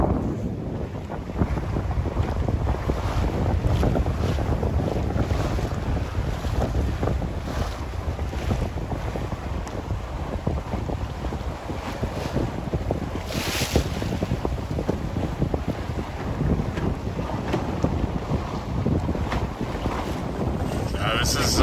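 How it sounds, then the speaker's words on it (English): Strong gusting wind roars across the microphone with rushing water and hull noise underneath, buffeting continuously and swelling in waves. "It's gusty today"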